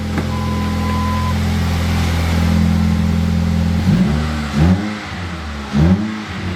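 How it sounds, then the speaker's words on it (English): A Ford Fusion 2.3L engine with its exhaust valve open idles with a deep throaty exhaust, then revs up sharply twice in quick bursts before dropping back to idle. "Let's give it some revs here."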